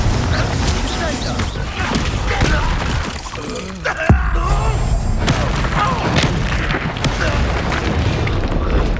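Confringo blasting spell detonating in the video game Hogwarts Legacy, a sharp boom near the four-second mark amid dense, continuous battle noise, with voices of characters speaking over the combat.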